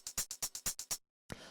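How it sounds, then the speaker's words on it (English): Vinyl-textured hi-hats tick in a quick run of about eight crisp, bright hits, fairly faint and alone, followed by a short gap and one more hit trailing into a soft crackly hiss. "So then the next thing we have here are these vinyl hi-hats"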